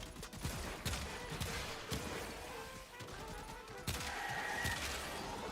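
Incarnon Vasto pistol gunfire in the video game Warframe: several sharp, punchy shots spaced about a second apart with crashing impact noise, moderately quiet amid game effects.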